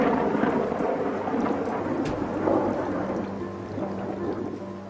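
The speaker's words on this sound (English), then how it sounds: "Rain not only slows down Teoman's schedule, it also soaks an already wet building." Rain falling steadily during a storm at a building under construction, with low rumbling thunder and scattered drops, fairly faint and continuous.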